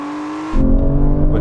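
Aston Martin Valkyrie, Vanquish and V12 Vantage launching in a drag race: a steady engine note suddenly surges into a loud, close, roaring acceleration that holds through the rest.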